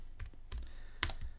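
Computer keyboard typing, a few quick keystroke clusters with short pauses between them, close and fairly quiet with no talking.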